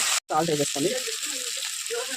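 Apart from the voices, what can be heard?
ingredients frying in a pan for idli upma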